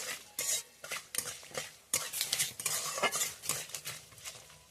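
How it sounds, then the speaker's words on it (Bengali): A spoon stirs turmeric, peanuts and curry leaves in a frying pan, making rapid, close scraping and clinking strokes over a soft sizzle. "ভালো করে নেড়ে নেব।"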